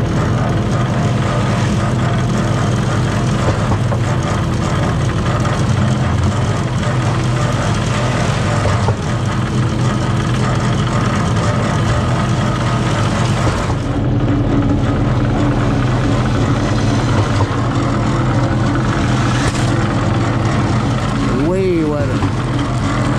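A concrete mixer churns a batch of concrete with a full can of Coca-Cola added, a loud, steady mechanical rumble that runs throughout with little change.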